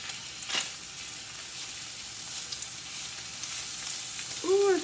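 A spoonful of garlic drops into a pan of browned ground beef and fries with a steady, soft sizzle, a brief louder burst near the start, then an even crackle with no talking.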